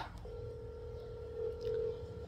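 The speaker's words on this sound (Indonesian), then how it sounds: "sebentar ya, saya sambil ngangkat telepon" A telephone gives a steady electronic tone that rises briefly in level partway through, close and fairly quiet with faint background noise as the phone is picked up.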